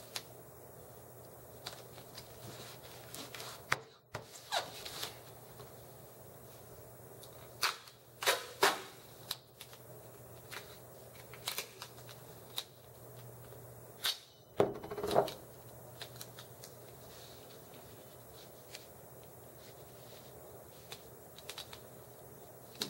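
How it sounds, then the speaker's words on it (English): Electrical tape pulled and wrapped down a wiring harness, giving a run of sharp crackly rips and taps, with a louder burst of peeling near the middle, close and fairly quiet. "At this point, you can continue taping it straight down."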